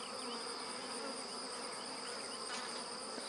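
Honeybees in a small nucleus colony humming steadily up close, a dense continuous buzz from many bees with no voices over it.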